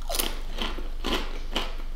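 Crispy bacon bitten and crunched close to the mouth, four sharp crackling crunches spaced roughly half a second apart, with no talking.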